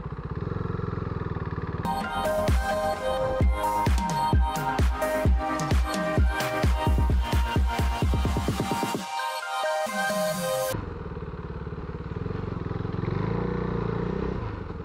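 A motorcycle ridden through a forest gives a loud, close engine roar with rapid revving and shifting throttle pulses, then a brief dip and a steady, rumbling idle at the end.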